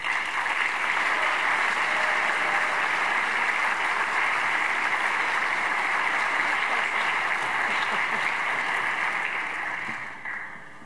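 Warm, dense applause from a banquet audience at a writers' awards dinner, steady and full for about ten seconds before tapering off.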